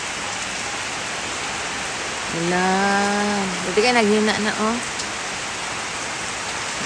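Heavy rain falls in a steady, dense hiss throughout, loud and close, while a person speaks briefly over it midway.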